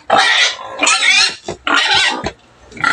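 Pigs being fed give loud, close grunts and squeals in three or four rough bursts separated by short pauses.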